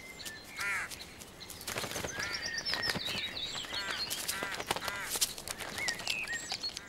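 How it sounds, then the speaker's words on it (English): Several crows call in a forest in spring in Central Europe, harsh caws scattered among chirps and tweets of other birds, moderately distant against soft ambient rustle. "Crows also look for things to eat down here."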